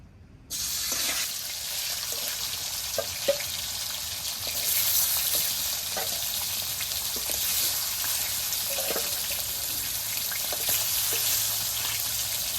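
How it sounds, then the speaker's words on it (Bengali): Steady sizzling of bhetki fish frying in a covered pan, a continuous hiss with occasional small pops and clinks throughout, no voices. "বাকি মাছগুলো এরকম হালকা ভাজে ঢাকা দিয়ে ভেজে নেব"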